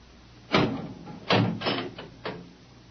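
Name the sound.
door opening in a radio drama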